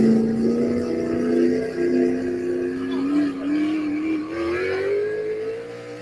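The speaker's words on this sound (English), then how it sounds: "John's truck, Code3" A four-wheel-drive Pro Mod drag racing truck at an NHRA 2023 event, its engine droning loud and close with a tone that climbs gradually as it revs, no voices over it.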